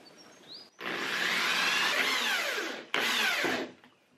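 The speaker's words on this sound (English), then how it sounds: "Now I'm going to use a 3/8 inch drill bit to drill out 2 corners of this box." A power drill with a 3/8 inch bit bores through the corners of a wooden box, two sustained whining runs with a pitch that sags under load, heard up close with no talk.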